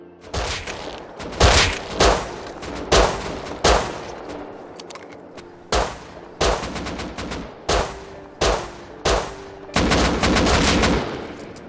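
Revolver fire in the survival game Rust: about a dozen loud, sharp shots in an uneven rhythm, each with a short decaying tail, the last few bunched close together.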